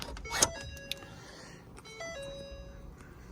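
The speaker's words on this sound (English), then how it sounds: "let me turn the truck on so I can show you guys" A 2017–2019 Ford F250 truck switched to accessory mode gives a sequence of electronic chimes and tones with a brief click, quiet and close, with no talk.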